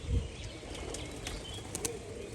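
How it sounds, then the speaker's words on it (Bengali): Rajshahi pigeons with clipped wings flap in flight, a few soft bursts of wingbeats rising over a steady outdoor background, with no voices. "আপনারা দেখে বুঝতেই পারছেন ডানা কাটা অবস্থায় কত সুন্দর পায়রাগুলো বাজি করছে।"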